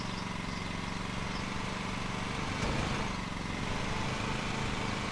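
Ride-on lawn mower engine in the Lawn Mowing Simulator game runs at a steady, droning idle throughout, with a slight throttle swell midway and nothing else over it.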